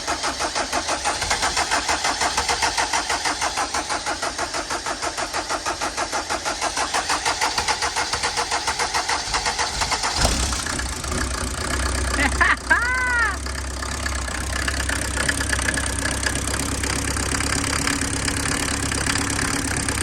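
A Mercedes 308D motorhome diesel engine with air in its fuel system runs with a rough, uneven rattle, then cranks and catches around the middle and settles into a loud, lumpy idle.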